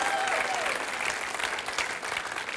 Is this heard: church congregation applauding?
yes